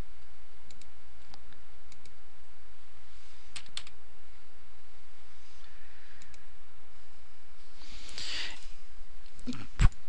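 Typing on a computer keyboard while entering data in SPSS statistics software, a sparse series of light, close key clicks at an unhurried pace, with a slightly louder burst of clicks near the end.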